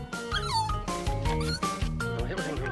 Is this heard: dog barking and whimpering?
yes